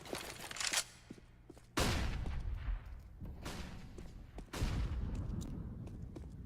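Pistol gunfire cracks in sharp bursts during a Counter-Strike match on Mirage, several loud shots spaced a couple of seconds apart over faint background sound and commentary.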